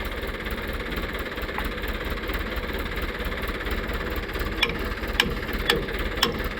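A tractor runs a rotavator through a farm field at sowing time. The engine keeps up a steady mid-low drone with a faint knocking vibration, and a few sharp clicks come near the end. No one speaks.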